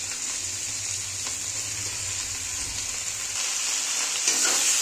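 Cut bottle gourd frying with onion and green chilli in hot oil, a steady close sizzle with occasional stirring scrapes, no voices.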